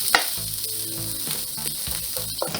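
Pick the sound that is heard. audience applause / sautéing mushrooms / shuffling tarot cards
sautéing mushrooms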